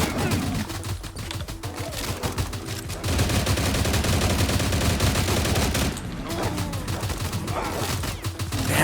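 Rapid automatic gunfire in the S.T.A.L.K.E.R.-style Minecraft mod, dense sustained bursts of shots loud and close, continuing almost without pause with brief gaps.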